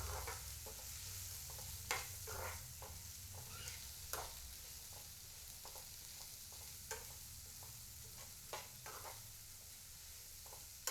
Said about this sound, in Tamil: நல்லா கலந்து விட்டுடலாம்